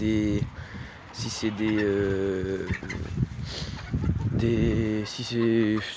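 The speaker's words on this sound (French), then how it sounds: "Pour moi lui c'est un coq et le reste c'est des poules." Chickens and a rooster in a poultry yard cluck and call repeatedly in close, loud bursts, with short pauses between them.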